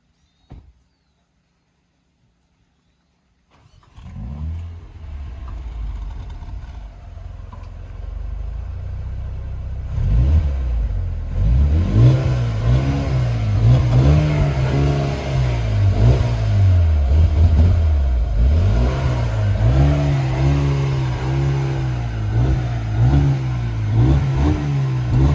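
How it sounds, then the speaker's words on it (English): A 2021 Mercedes-AMG GLB 35 cranks and fires after a few seconds of silence, settles into a steady idle, then is revved repeatedly with loud rising and falling engine surges, close up and with no talking. "this car does have a good kick, so let's go to Will for the startup and the rev"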